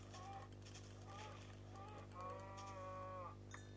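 A cow in the Minecraft video game gives a few short, quiet moos, the last and longest one drawn out, over a low steady hum.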